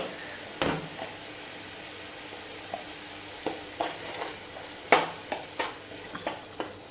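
Ginger garlic paste sizzling in hot oil for a mutton biryani, with a low steady fry and a run of sharp scraping stir strokes, sparse at first and then quicker, close by and fairly quiet.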